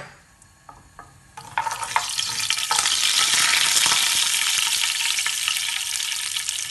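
Mustard seeds dropped into hot oil in a pan for a potato stir-fry burst into a loud, steady sizzle with scattered sharp pops and crackles, rising after a quieter start and holding close and strong.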